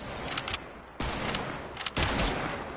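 Gunfire in a shooter video game, with bursts of shots at about 0.4, 1.0, 1.8 and 2.0 seconds over a steady game-noise bed, loud and rapid with no talking.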